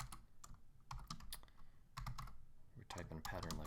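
Keys clatter on a computer keyboard as a command-line pattern is entered on Linux, a quick uneven run of close, crisp clicks in bursts with short pauses, with no voice over them.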